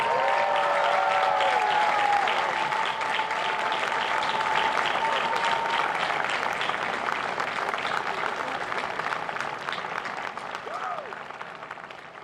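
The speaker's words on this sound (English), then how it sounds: "give a huge round of applause to those who helped you on this journey" Sustained applause from graduating business and law students standing to face the audience at a university final exercises ceremony, a dense steady wash of many hands clapping that fades slightly toward the end.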